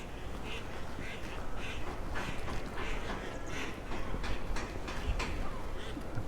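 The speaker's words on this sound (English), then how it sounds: "And a lot more ducks up there as well." Ducks quack repeatedly outdoors at Santa Ponsa, Mallorca, in a steady chorus of overlapping calls over diffuse background noise, with no clear talk.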